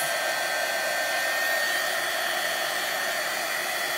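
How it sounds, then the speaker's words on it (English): A heat embossing tool blows hot air with a steady, even, hair-dryer-like whoosh, close and constant throughout with no talk. "As soon as your embossing tool gets hot, it changes it."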